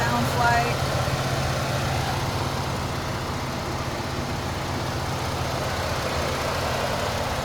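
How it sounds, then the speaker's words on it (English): A 2016 Ford Expedition engine idling, a low, steady, quiet hum with a brief clatter at the start and no change in pitch throughout. "So this is what the engine looks like and what it sounds like."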